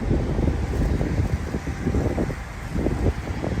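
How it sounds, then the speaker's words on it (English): Wind buffets the microphone in a steady roar with gusty low rumbles, no voices. "Of course, it gotta be windy too right now."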